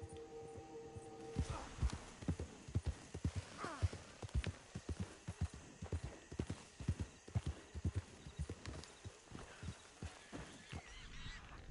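Hooves of a large horse clip-clop steadily in Red Dead Redemption 2, a close, regular walking rhythm that runs throughout, with faint honking fowl and a brief whinny in the background.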